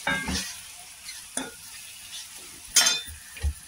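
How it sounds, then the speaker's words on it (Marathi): Tomatoes going into a pan of sautéed onions and ginger garlic paste for hotel-style dal tadka, with a few short stirring scrapes and clatters over a faint sizzle, close by, no talking. "आता कांदा परतून झाला, याच्यात अद्रक लसूण पेस्ट पण टाकूया. आणि मिक्स करू. टमाटे बी टाकूया लगेच."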